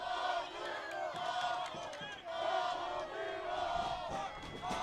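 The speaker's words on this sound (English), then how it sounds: "Crowd chanting ball 4 from the East Central side." Spectators at a 6A region final high school softball game chant ball four together, a steady rhythmic crowd chant heard from a distance across the field.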